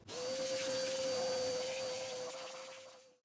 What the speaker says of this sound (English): First step, a quick vacuum to remove loose debris.